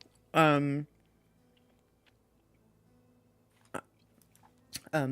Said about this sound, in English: sorry, chewing something.